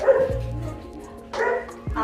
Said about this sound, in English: These are our Bandogs puppies.